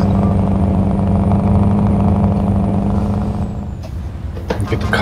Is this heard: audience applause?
no